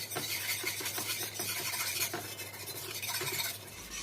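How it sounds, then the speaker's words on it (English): Southern biscuit gravy begins as all-purpose flour gets stirred into hot grease in a pan, making a steady close scraping, rubbing stir over a soft sizzle with quick repeated strokes, no voices. "And then we're going to start out with adding 1/3 of a cup of all-purpose flour. And then we're just going to stir this in."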